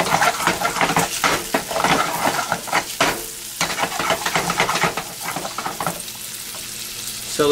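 Bacon sizzles steadily in a pan, a loud continuous frying hiss broken by repeated scraping and stirring strokes, close up with no talking.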